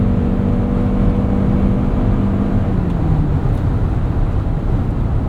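A 2021 Toyota Highlander Hybrid with a 2.5-liter engine accelerating at full power, heard from inside as a steady, loud drone of engine and road noise with a tone that slowly sinks, no talking.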